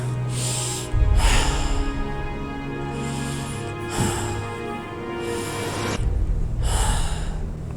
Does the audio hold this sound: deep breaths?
yes